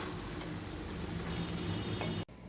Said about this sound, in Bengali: তারপর এটা আমি নেড়ে নিচ্ছি।